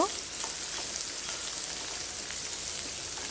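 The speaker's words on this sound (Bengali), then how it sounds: "তেল দিয়ে এখন আমি খুব সুন্দর করে একটু ভেজে নিব হালকা হালকা ব্রাউন কালার করে আমি এই সমস্ত উপকরণ একটু ভেজে নিব" Ingredients for a jackfruit seed mash frying in oil until lightly browned, giving a steady, dense sizzle and crackle that runs evenly throughout, close and alone without talk.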